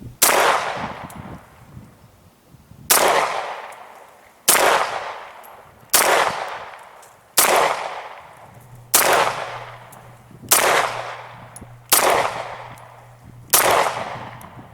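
Beretta 92S pistol shots ring out one at a time, the first in double action and the rest in single action, nine loud, sharp reports spaced roughly every one and a half seconds, each trailing off in echo outdoors.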